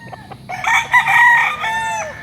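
Roosters crow at a farm of fighting gamecocks in Barangay Santor, Tanauan City, Batangas, their long overlapping calls ringing close and loud over a faint murmur of background noise.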